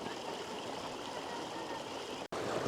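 A mountain stream flows in a continuous, close rush of water with a bright, even gurgle, cut by a very brief gap near the end.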